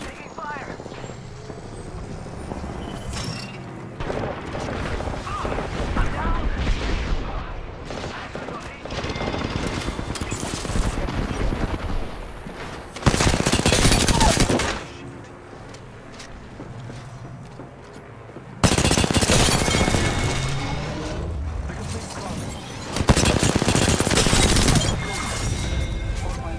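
Heavy automatic gunfire in a battle-royale shooter match of Apex Legends, sustained bursts rattling for long stretches with louder, denser volleys breaking in near the middle and end, over a constant rumble of game ambience.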